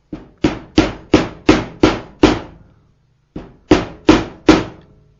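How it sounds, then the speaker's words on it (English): A rubber mallet tapping a 1-inch PVC pipe to seat a part evenly during final engine assembly: a quick run of six sharp, close, hollow thunks, a pause, then four more. "taking a 1-inch PVC pipe and a rubber mallet, just seat that evenly"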